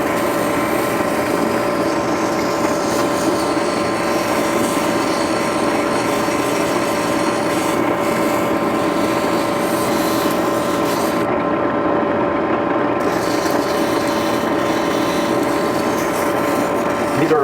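A geode is polished on diamond-coated belts in a workshop, making a constant grinding, whirring drone with a steady machine hum and a brief change partway through; no speech is heard.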